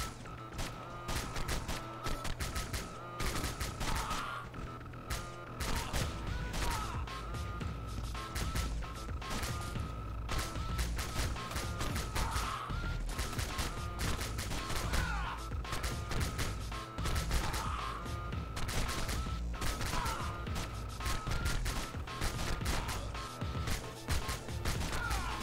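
Player weapon fire in the side-scrolling action game Bionic Commando Rearmed, a steady, relentless stream of rapid gunshots layered over busy game music and effects.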